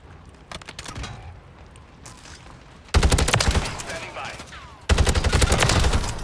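Rapid automatic gunfire from the SOA Subverter in a first-person shooter game, bursts of sharp repeated shots, quieter at first and then two loud sustained volleys close up.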